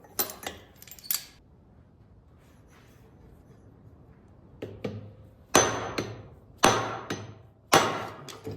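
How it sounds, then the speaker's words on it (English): A dead blow mallet strikes the flywheel of a 1952 Jacobsen Lawn Queen mower with several sharp, close blows: a few light taps first, then a pause, then four heavier hits with a metallic ring. "That is a dead blow mallet, incidentally."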